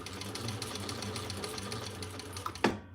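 A sewing machine stitches steadily around the top of a sewn piece, a close, continuous whir that ends with a sharp clunk as it stops.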